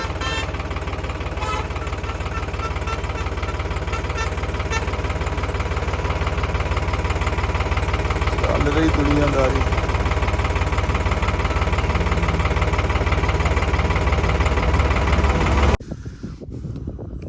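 A loud tractor engine idles steadily up close with a rhythmic diesel knock, and a crow caws briefly; the engine cuts off near the end.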